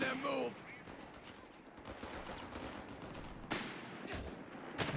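Rifle shots and machine gun bursts from the real-time strategy game Company of Heroes 3 crackle through a tournament match, sharp reports scattered over a background of battle noise with a couple of louder bangs.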